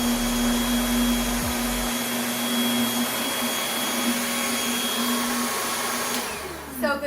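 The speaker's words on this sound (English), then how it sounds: "we're going to go ahead and turn on the vacuum cleaner and show you how very powerful it is even on hardwood floor" A Bissell Featherweight 3-in-1 vacuum cleaner runs steadily on a hardwood floor, a loud continuous motor whine with a constant hum throughout, shifting slightly near the end as it moves.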